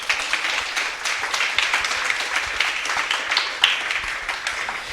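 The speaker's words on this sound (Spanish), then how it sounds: "Démosle un aplauso a Jesucristo" Church congregation clapping for Jesus Christ during a sermon, a dense, even patter of many hands sustained throughout at moderate volume, with a few louder claps near the end.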